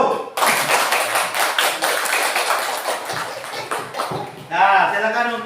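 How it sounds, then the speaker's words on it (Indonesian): Classroom students clapping for a group, a burst of close, quick claps rising and continuing, with voices talking over it and a brief tonal sound near the end. "Tepuk tangan untuk kelompok 1."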